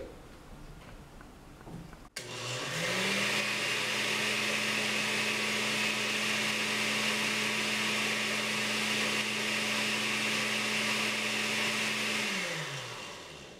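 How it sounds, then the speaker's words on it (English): A blender runs loud and steady, mixing watermelon with sugar. After a short lower rumble it spins up hard, holds a constant whirring drone for about ten seconds, then winds down at the end. "Blend it again."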